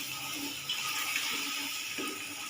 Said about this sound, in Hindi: और साथ में 1 कप पानी भी डाल रही हूँ।